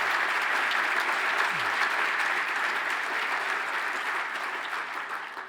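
Sustained applause from a large audience at a speech event, a dense steady wash of many hands clapping that slowly fades toward the end.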